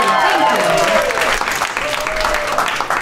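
A stand-up comedy club audience clapping and cheering, dense continuous applause with whoops rising over it, loud and close, while the comedian's voice carries through the noise.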